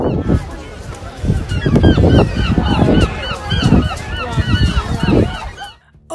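A crowd of gulls squawks and honks loudly and continuously, many harsh overlapping calls close by, with busy background noise under them.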